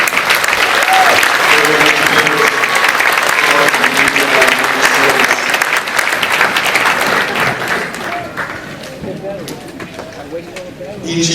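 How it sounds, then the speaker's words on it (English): Audience applause at a 2013 college graduation ceremony, a dense, steady ovation of many hands that fills the hall, tapering slightly near the end with some voices mixed in. "Let's give them another round of applause."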